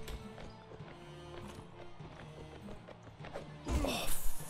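Horse galloping in the video game Mount and Blade Warband, a steady run of hoofbeats over game music, building to a louder crash or impact near the end.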